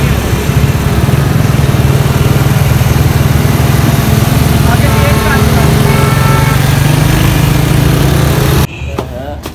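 A motorcycle engine runs loud and close on a ride, holding a steady drone for most of the stretch before it drops away abruptly near the end.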